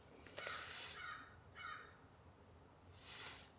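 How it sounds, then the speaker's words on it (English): Crows caw in the early morning at a rainy tarp campsite, three soft, distant bursts of calls spread across a quiet background. "The crows are out, they're talking."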